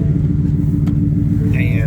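A race truck's engine idles loud and close with a thick, throbbing low rumble, a brief high squeal rising near the end.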